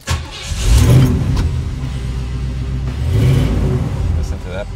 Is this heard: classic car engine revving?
yes